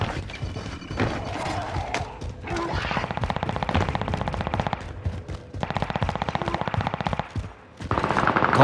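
Light machine gun fire in Call of Duty: Modern Warfare: long, rapid automatic bursts rattle on for seconds at a time, broken by brief pauses, loud and up close.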